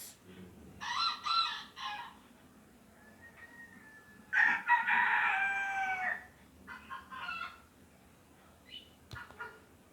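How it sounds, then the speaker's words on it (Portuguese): A rooster crows loudly nearby in a few long, strained calls, with clucking chickens and fowl sounds between them and a quiet pause at the end. "o galo cantou"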